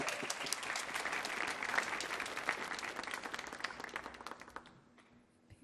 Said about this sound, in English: Yes, let's give her a round of applause.